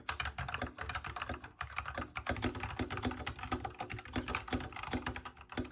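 Keys clatter on an Ajazz AKC087 metal-stacked TKL custom keyboard, a brisk continuous stream of hollow-sounding close keystrokes with irregular rhythm and no voices.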